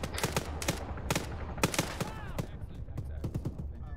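Gunfire during an Arma PvP match: a series of sharp shots, some rapid bursts and some single cracks, popping at an irregular pace over a low rumbling background, with voices talking in between.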